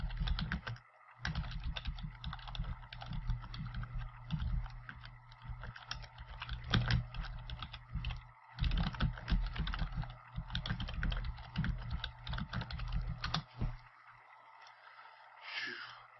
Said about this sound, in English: I'm recording you and typing random stuff in a stream